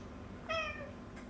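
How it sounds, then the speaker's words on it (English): A domestic cat gives a single short meow, close by and clear, over a faint room hum. "my cat is going crazy"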